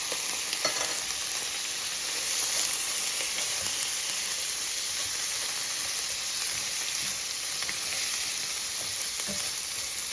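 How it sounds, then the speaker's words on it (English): Onions and crab meat sauté in a hot pan with a steady, dense sizzle and crackle throughout, occasional stirring scrapes, close and continuous with no voices. "So I'm sauteing these onions, and I'm going to throw some of this crab meat in there with it"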